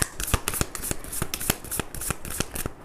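A Moonology oracle card deck is shuffled by hand, a quick run of crisp, close riffling clicks and slaps in an uneven rhythm, with no voice.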